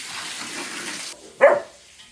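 A dog on a farm gives a single sharp bark, close and fairly loud, after a stretch of running water hiss that cuts off.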